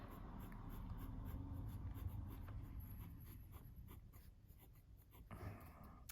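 A fine fountain pen nib writing with Diamine Ruby Blues ink, a soft, continuous scratchy scrape on paper with small strokes and pauses, faint and close up.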